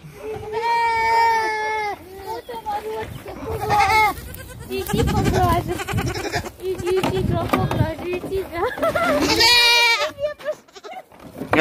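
Goats bleat repeatedly at close range, several long wavering cries rising and falling among a herd on a farm, with people talking over and between the calls.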